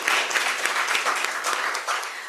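Audience at an African BioGenome Project regional event breaks into brisk, dense applause, a short close burst of clapping with no talking.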